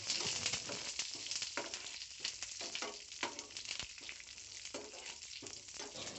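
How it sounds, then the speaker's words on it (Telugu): Curry leaves sizzle in hot tempering oil with already-fried mustard seeds for a cucumber chutney, a steady loud crackle broken by repeated scraping stirs, with no voices. "ఇప్పుడు కరివేపాకు రెబ్బలు వేసుకుందాం. ఈ కరివేపాకు వేసుకున్నాక బాగా కలుపుకోవాలండి."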